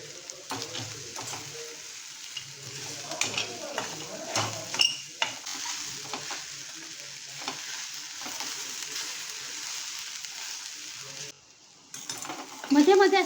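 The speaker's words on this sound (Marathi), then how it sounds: "जर तुम्हाला भेंडी आधी परतायची असेल ना तर तव्यावर 1 चमचा तेल टाकून भेंडी परतून घ्या." Okra sautés in a spoonful of oil on a griddle, a steady soft sizzle with scraping stirs and a few metallic clinks of a spatula, close and fairly quiet, with occasional speech over it.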